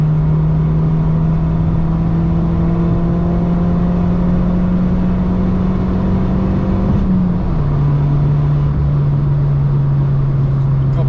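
A Fiat 500 Abarth Stage 2 engine pulls steadily under acceleration, a close, even drone rising slowly in pitch before a brief dip near the end as it settles on.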